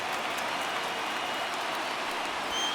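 Broadband crowd roar from a packed video-game baseball stadium of over 37,000 fans in MLB The Show 19, rising to cheer as they come to their feet on a full count, steady and dense throughout.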